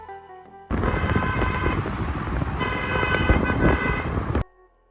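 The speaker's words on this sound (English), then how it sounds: "There are too many noise and sounds of the cars on the streets." Dense New Delhi street traffic swells in suddenly, a loud wash of car engines with tonal horn and siren-like blasts layered on top for several seconds, then cuts off abruptly near the end.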